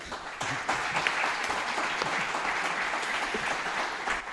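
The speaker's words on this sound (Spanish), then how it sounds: "Un aplauso para ella." A live audience claps for a journalist guest on a podcast recording, a full, even burst of many hands that holds steady and close throughout without fading.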